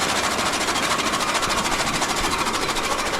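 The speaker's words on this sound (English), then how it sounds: "The machine is slightly noisy, but not very noisy." A modified chaff cutter machine runs continuously at close range, a loud, dense mechanical clatter with a fast regular pulsing rhythm and no pauses.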